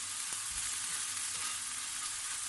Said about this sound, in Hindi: और मैं अब इसको इस तरह से फ्राई करती रहती हूँ।